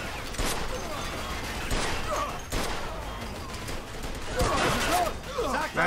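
Scattered video game gunshots crack amid a busy, noisy scene in Mafia II: Definitive Edition, several sharp bursts spread across the clip with mechanical clatter underneath.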